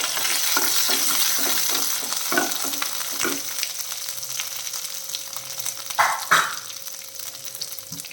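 Curry leaves stirred into cowpea thoran frying in a pan give a steady close sizzle with repeated scraping strokes of a spoon, plus a brief louder crackle flare near the end.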